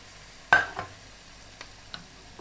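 Lentils tipped into a pot of soup being cooked, a short clatter-like burst followed by a few fainter soft taps and scrapes, close by with no talking.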